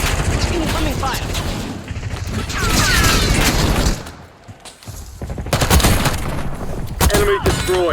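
Dense gunfire and machine-gun bursts crackle through a Call of Duty Black Ops 6 Warzone match, with impacts, mechanical clatter and brief in-game voice callouts mixed in, easing for a moment before firing resumes.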